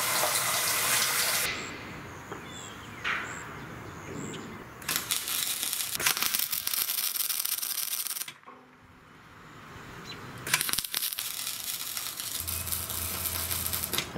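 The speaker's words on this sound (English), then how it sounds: "So I'll turn the water on," Water from a hose gushes and splashes steadily at close range, briefly cutting out partway through before flowing again loudly.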